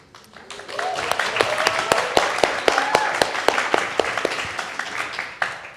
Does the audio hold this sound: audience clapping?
yes